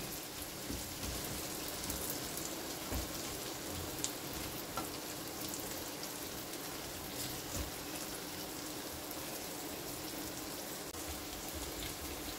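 Potatoes frying in a pan of oil give a steady, dense sizzle that holds evenly and fairly quietly throughout, with faint stirring scrapes and no talking.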